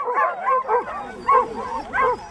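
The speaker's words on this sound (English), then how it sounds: "So the dogs would start to bark and bark and bark" Several dogs bark and yip on a film set in repeated bursts, about five loud barks spaced through the clip, close and fairly strong, with some whimpering tones between them.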